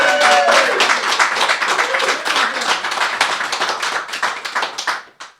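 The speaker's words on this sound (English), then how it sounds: "Let's give them another round of applause." An audience claps for a music trio after their performance, a lively burst of many hands that thins toward the end into a few scattered claps before stopping.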